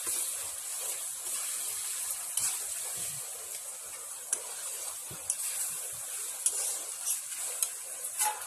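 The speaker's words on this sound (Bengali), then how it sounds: "এইভাবে মশলাটা কষিয়ে নেব।" Spices and chilli frying in a pan for Bengali chicken kasha give a steady, soft sizzle, broken by sharp clicks and scrapes as the mixture is stirred. No one speaks.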